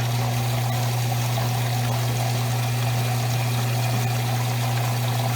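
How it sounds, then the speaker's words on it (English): A Maytag washer on a normal cycle fills with a steady rush of water alongside a constant low mechanical hum from its pump, continuous and close throughout with no talking. "it's going to fill a little more water."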